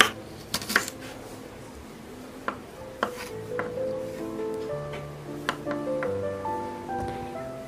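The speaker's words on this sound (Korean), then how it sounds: "당근은 둥글게 채 썰고 4등분합니다" A knife cuts a carrot into rounds and then quarters on a board, giving a series of sharp, irregular chopping taps close by, with quiet kitchen handling between cuts.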